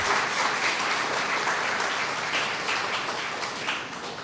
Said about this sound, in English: Can you give them a round of applause also